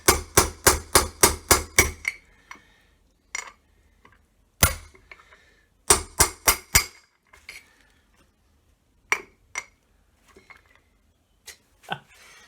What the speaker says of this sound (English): Try not to smack your hand with the hammer.